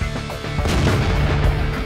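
Tank cannon fire from a T-54 first prototype in World of Tanks: loud, dense booming shots and rumbling impacts in rapid succession, filling the whole stretch with heavy low thuds.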